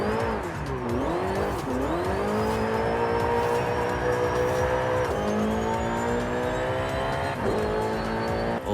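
A Ferrari in the racing game Forza Horizon 5 accelerates toward top speed, its engine note climbing through several gear shifts in a loud, continuous whine with faint tyre noise and no speech.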